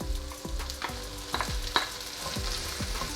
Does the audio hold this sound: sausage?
yes